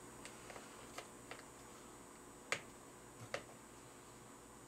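Small plastic clicks and taps as a battery pack connector is plugged into a DX7 transmitter, a few sharp close clicks scattered over a quiet background.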